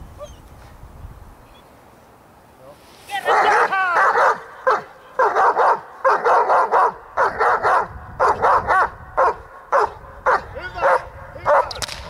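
A dog in an obedience training session barks repeatedly and loudly up close, in quick bursts with short gaps, after a few seconds of quiet.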